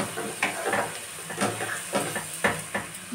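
Chicken kasha spice paste with tomato fries in oil while being stirred, with soft sizzling under repeated scraping knocks of a spoon against the pan at a roughly even pace.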